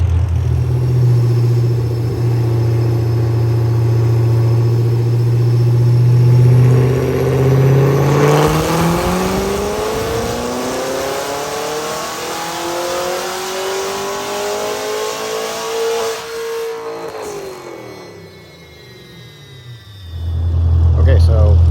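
A tuned Chevrolet Corvette C7 Z06 idles with a deep rumble, then climbs through a long, loud rising rev during a pull before dropping off and settling back to idle.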